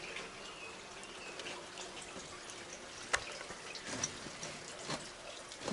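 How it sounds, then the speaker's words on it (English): Quiet, steady trickling and splashing of running water at an abandoned hillside mansion, with a few louder drips and plops standing out from the flow. "Sounds like more running water."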